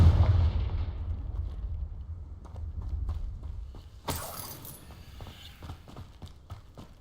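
A Confringo fire spell explodes in the video game Hogwarts Legacy with a sudden sharp blast midway, followed by crackling debris and scattered pops, while steady, rumbling ambience carries on underneath.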